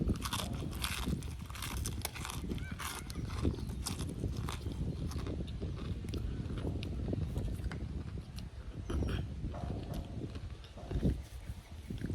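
Crunchy Bojangles fried chicken bitten and chewed close to the mic, with repeated crisp crunches in an irregular rhythm over a continuous noisy background.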